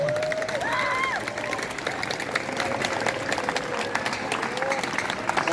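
An audience at a National Santri Day school ceremony claps in sustained applause, with a voice carrying over the crowd through the whole stretch.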